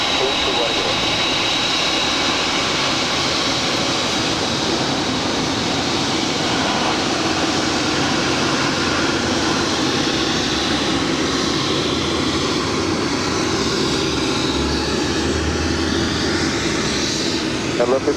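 A jet airliner roars on takeoff from runway 25 left at LAX, a loud, sustained broadband engine rumble that holds steady and close, with radio chatter from the tower faintly beneath.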